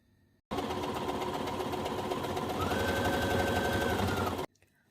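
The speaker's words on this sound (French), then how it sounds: "je vais pouvoir piquer tout le contour de mon emmanchure à 1 cm avec le point qui est adapté au jersey" A sewing machine stitches around the armhole of a jersey sleeve in one steady, close, loud run of rapid needle clatter, starting and stopping abruptly after about four seconds, with no talk.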